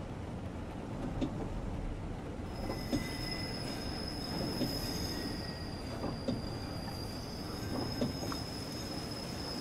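Fugger Express train in Train Simulator running from Munich to Augsburg, with steady wheel-on-rail rumble, a high sustained wheel squeal, and a continuous close interior roar with small periodic rail-joint bumps.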